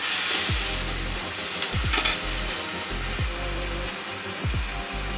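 Tomatoes fry in a hot pan for a Rayalaseema-style uggani, a steady close sizzle broken by several sharp scraping strokes of a spoon stirring them, with no voices over it.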